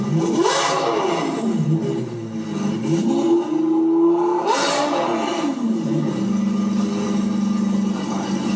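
A customized Lamborghini Revuelto with a louder aftermarket exhaust roars close by through two sharp revs, its pitch sweeping up and falling back between throttle blips before settling into a rumbling idle.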